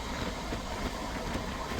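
The Amritsar-Haridwar Jan Shatabdi Express runs along the track, producing a steady, loud rumbling roar of rolling wheels and carriages with faint rhythmic clatter, heard continuously at close range.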